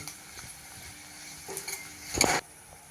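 A spoon stirs chana palak curry masala in a pan, soft scraping and light clinks over a faint sizzle, building to a brief louder scrape near the end, no talking.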